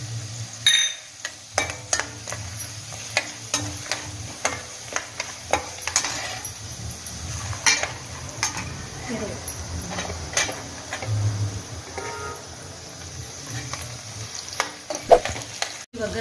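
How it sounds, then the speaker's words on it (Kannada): Peanuts sizzle in a hot oil tempering for poha, a steady frying hiss broken by sharp clinks and scrapes of a spoon stirring in the pan. "ಈಗ ಶೇಂಗಾ ಹಾಕ್ತಾ ಇದ್ದೀನಿ."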